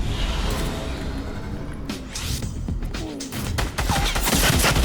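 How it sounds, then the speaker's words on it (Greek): Gunfire in the Fortnite battle royale game crackles through dense, sustained noise as a steady run of overlapping shots and impacts, loud and close, with no talk. "Επιτέλους πυροβολισμοί."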